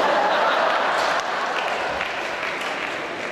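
A standing audience applauds a comedian's stage show at a Basel casino, dense continuous clapping that is loud at first and eases slightly, with faint chuckles mixed in.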